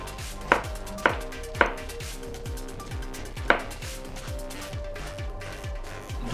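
A knife chops red onion into small dice on a board with a fast, even rhythm of close soft taps, punctuated by a few louder knocks, with no talk.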